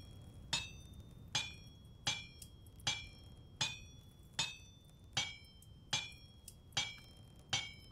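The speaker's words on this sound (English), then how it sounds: "Get the hammer out and give it a good whack." In the video game Vintage Story, a hammer strikes iron on an anvil while forging, about ten sharp metallic clangs with ringing tails spaced at an even, unhurried rhythm, fairly quiet and with no talk.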